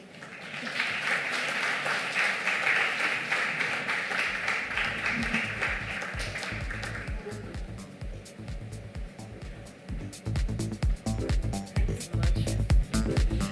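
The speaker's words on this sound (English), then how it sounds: "Ladies and gentlemen, a louder round of applause." An audience at a business conference in Bengaluru claps in a sustained, moderately loud round, thinning out midway before scattered heavier claps pick up again.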